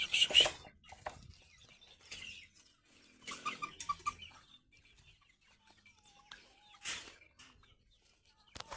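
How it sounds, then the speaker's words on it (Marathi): Hens cluck in scattered short bursts at close range on a farm, with quiet pauses between calls and someone talking briefly nearby. "ह्या कोंबड्या आपण बघू वेस्टेज खाल्ले का त्यांनी"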